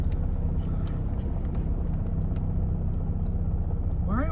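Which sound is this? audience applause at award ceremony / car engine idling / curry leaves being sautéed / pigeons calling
car engine idling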